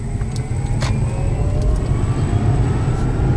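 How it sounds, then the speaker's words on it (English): An electric-converted Mazda RX-8 driving, with a steady high electric-motor whine held over a continuous low road and drivetrain rumble, moderately loud and constant throughout. "There is a very futuristic whine you get when driving it"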